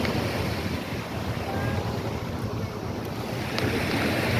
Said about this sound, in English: the water is just about to crest the sandbar and cause this little area to get inundated with waves